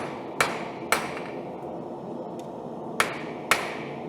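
Hammer striking the side of a forge-welded billet to test the weld: four sharp metallic blows in two pairs, close and loud, separated by quiet gaps.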